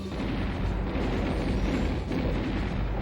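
Batmobile blowing up in the Batman Forever PlayStation video game: a dense, rumbling explosion wash filling the whole stretch at steady loudness, with no talk over it.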